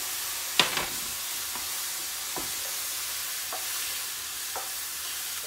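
Masala being stirred into frying onions in a pan for fish vindaloo, a steady soft sizzle with a handful of spoon scrapes and taps at roughly one-second intervals, close and fairly quiet.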